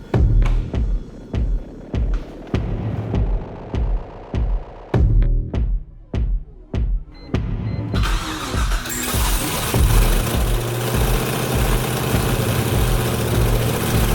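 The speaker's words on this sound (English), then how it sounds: "This is the first start of the engine in the chassis." A Mazda RX-7 FD engine, first start in the chassis with no exhaust fitted, cranks in rapid bursts, then catches and roars to a loud, raw, unmuffled idle that keeps running.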